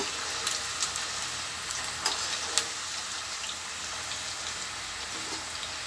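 Steady, close sizzling of dough balls deep-frying in hot oil, with scattered crackles and pops and no voices.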